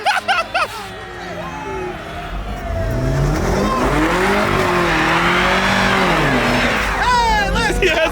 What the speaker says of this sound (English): He's doing a front wheel drive burnout.